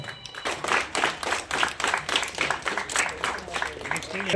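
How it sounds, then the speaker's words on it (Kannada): Audience clapping at a scholarship award ceremony, a steady patter of many hands going on for several seconds, mixed with crowd murmur and voices. "ಚಪ್ಪಾಳೆ ಹಾಕ್ಬೇಕು"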